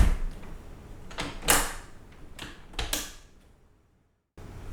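Sharp clicks and knocks come from a double hung window sash as its pin is worked into place, several close taps over a few seconds and then quiet.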